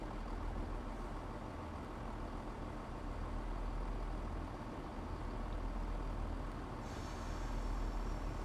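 A train braking in the Train Sim World 6 game: a steady, loud rumble of rolling stock continues throughout, and a brighter airy hiss of brake air rises near the end.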